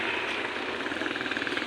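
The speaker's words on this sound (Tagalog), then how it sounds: "Helicopter yun." A helicopter flying over Pantabangan, Nueva Ecija gives a steady rushing rotor drone with faint rhythmic chopping pulses, sustained and moderately loud for a brief moment with no voices.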